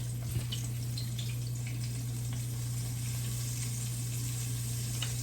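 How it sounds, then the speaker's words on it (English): Liver frying in a pan on a stovetop, a steady close sizzle with light crackles and pops running evenly throughout, beneath a constant low hum, with no speech. "I have a lot of liver to fry right now"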